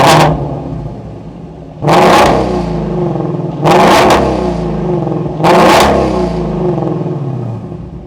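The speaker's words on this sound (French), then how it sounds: "fini de faire le coin à mettre des coups de gaz dans le vide" A parked Shelby GT350 V8 gets three sharp throttle blips, each a loud rising roar that falls back into a rumbling idle, spaced about two seconds apart, close by.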